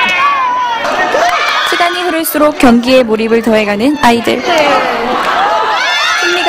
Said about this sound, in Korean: 승리가 눈앞에 다가올수록 기쁨의 함성은 커져만 갔다.